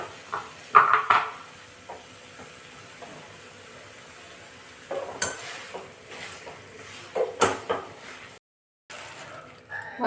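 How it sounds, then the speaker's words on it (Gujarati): A masala filling is stirred in a pan and pressed with a pav bhaji masher, giving scattered metallic clinks, knocks and scrapes, some sharp and close, between quieter stretches, with one brief full dropout. "હવે એને મિક્સ કરી અને આપણે પાઉંભાજીનું જે સ્ટેન્ડ હોય એનાથી થોડુંક આવી રીતે દબાઈ દઈશું."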